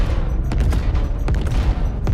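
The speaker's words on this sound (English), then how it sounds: "Big noises, explosions, large guns." Heavy gunfire and explosions from a space combat video game, a dense, loud barrage of booming shots with several sharper blasts punching through a constant roar, no talk.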